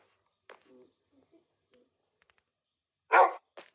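Minecraft dog barking in-game, a couple of short faint barks and whimpers, then one louder bark near the end, with sparse quiet sounds between.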